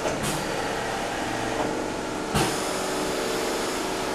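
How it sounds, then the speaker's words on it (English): A stencil printing machine runs with a loud, steady mechanical whir and makes one printing motion, marked by a sharp clunk partway through. "Now press the pedal switch once, the machine make one"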